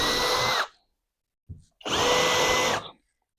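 A SKIL cordless drill whirs at high speed in two bursts, separated by a short pause and a brief low thump, close and loud.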